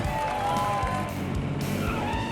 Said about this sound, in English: You can smoke things up at the burnout contest